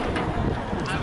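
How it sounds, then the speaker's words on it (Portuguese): Strong wind blows across an outdoor youth football pitch in Fortaleza, a loud, buffeting roar that batters the microphone for a short moment. "Aqui em Fortaleza, aqui faz um vento enorme mesmo."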